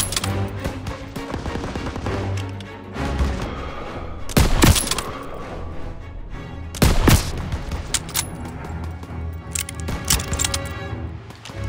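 Gunfire in a World War II battle from Call of Duty WWII, with rattling rifle and machine gun volleys, sharp cracks and a couple of loud close blasts standing out over constant background shooting.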